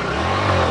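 A car engine revs hard as the car pulls away over rough, rocky ground, giving a loud, continuous mid-pitched roar that holds steady through the short moment.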